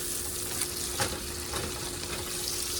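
Meat stirred as it fries in a pan, a close, continuous sizzle with a few brief scraping strokes of the spoon.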